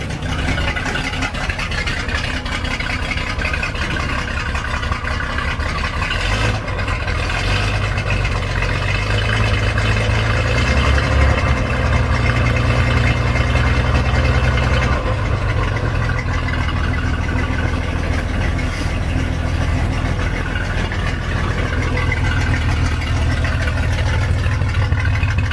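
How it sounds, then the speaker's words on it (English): A 1961 GMC 5000 truck engine idles steadily and a little rough, a continuous low, loud rumble with slight unevenness and no talking throughout. "It's running a little rough to my liking, but at least it stays idling now."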